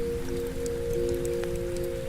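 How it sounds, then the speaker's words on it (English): Steady rain falls on a dark, bleak day beside an outdoor fire, a continuous soft patter with a constant low hum underneath, close and even throughout with no voices. "Rain falls like always"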